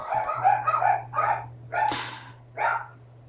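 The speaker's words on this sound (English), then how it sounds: "I apologize for the dogs barking." Several dogs at home bark in quick, loud, close bursts, a cluster of sharp barks followed by a few spaced single woofs over a steady low hum.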